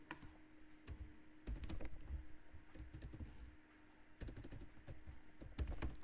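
Quiet computer keyboard typing during stock-transfer data entry, irregular clusters of soft keystrokes with brief pauses and no talk.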